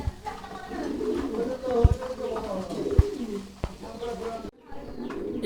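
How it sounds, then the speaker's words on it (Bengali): Yellow Lahori pigeons cooing close by in a pair, soft repeated throaty coos over a background murmur, with a few sharp knocks and a brief pause near the end. "একদম মার্ভেলাস একজোড়া কবুতর"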